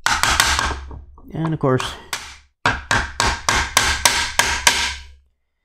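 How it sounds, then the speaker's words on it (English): Hammer blows drive a leather punch tool into leather for a reproduction 1861 Civil War cartridge box, a run of sharp, evenly spaced loud strikes with a short pause and a brief voice in the middle. "twist the tool and the leather piece lifts up and drive it in at an angle"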